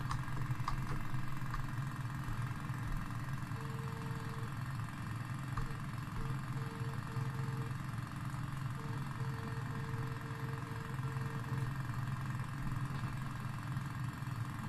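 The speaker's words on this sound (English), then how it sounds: "Guess we have to turn the compressor back on" A steady, low droning hum from an air compressor in the Demolition Company video game runs evenly at moderate level throughout, with faint periodic tones over it and no talking.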